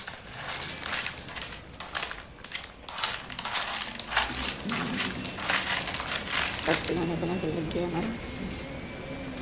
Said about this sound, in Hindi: ये बजरी उतर रही है हमारी फटाफट